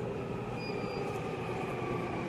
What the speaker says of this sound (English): And actually the subway is just coming in right now